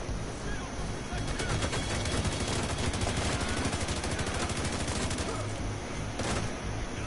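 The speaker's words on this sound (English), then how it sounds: "I'm taking a lot of shots that I normally couldn't take." Gunfire from The Division 2 rattles in rapid, sustained automatic bursts, loud and dense over a constant roar of game noise, with a sharper crack near the end.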